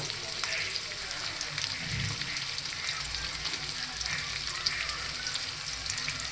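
Asafoetida and spices hit hot oil in a steady, fairly quiet sizzle with a faint rain-like crackle and occasional stirring underneath.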